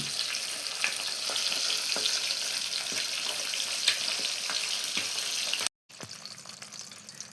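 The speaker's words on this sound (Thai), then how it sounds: "ทอดปลาทูยังไม่เสร็จปลายังไม่ได้หลน" Fresh mackerel frying in a pan of oil gives a continuous close sizzle with scattered pops and spatters, which cuts out abruptly near the end before resuming briefly.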